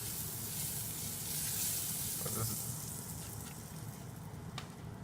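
Ham patties frying in butter in a warmed pan for eggs Benedict give off a soft, steady sizzle that stays quiet and even throughout, with no one talking.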